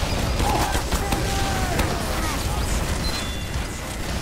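Gunfire in a video game is aimed at the player: dense, overlapping volleys of shots with booming blasts that keep going steadily and loudly throughout.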